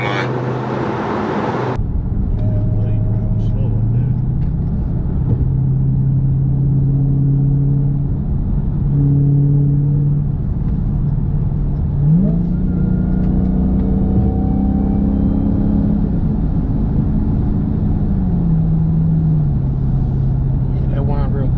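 Dodge Charger Hellcat engine whining as it accelerates, a loud steady rising whine over the engine's rumble through repeated gear changes, heard from inside the car.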